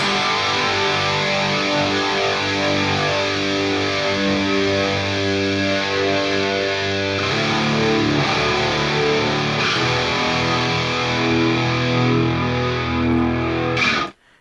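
A distorted electric guitar chord with chorus effect sustains loudly for about fourteen seconds while a low cut filter is swept, thinning its low end partway through, then cuts off abruptly.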